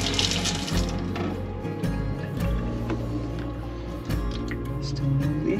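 Strong pressurized water gushes steadily through a boat's plumbing, a dense continuous rush with faint drips and clicks mixed in, fairly close and loud throughout.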